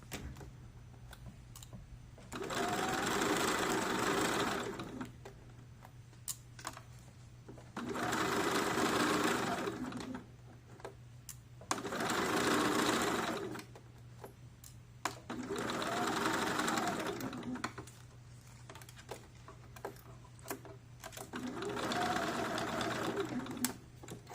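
A sewing machine stitches a seam in jeans at a quarter-inch allowance, running in five steady bursts of a few seconds each, separated by short pauses, with a low hum continuing underneath.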